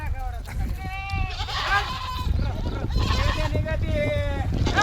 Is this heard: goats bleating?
yes